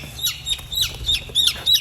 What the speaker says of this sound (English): This is one of the guinea hens that Amber put in and didn't notice